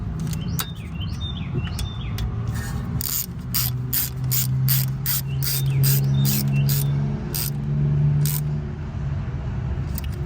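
A ratchet tightening a 10 mm bolt on a Toyota Corolla ABS wheel speed sensor gives off rapid clicking bursts in quick repeated strokes, close and distinct, with faint bird chirps in the background.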